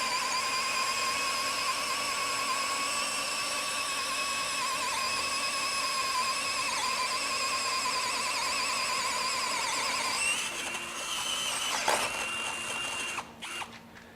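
A steady, high-pitched whine of a Greenworks 24V brushless cordless drill boring a 1.25-inch hole through pressure-treated wood at low speed, running continuously for about ten seconds, then winding down with a few clunks and rattles.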